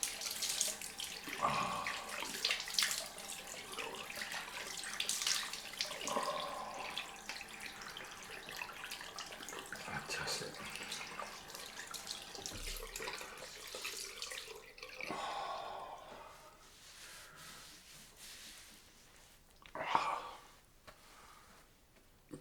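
Cold water runs from a tap into a sink during a wet shave, a soft, close splashing flow that comes and goes with brief gurgles and one louder splash.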